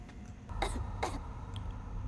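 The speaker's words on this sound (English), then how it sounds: "What kind of medicine do I need for a coughing" Two short, sharp throat-clearing coughs in quick succession, fairly close and quiet, from a character in the horror video game DreadOut 2, with faint game ambience around them.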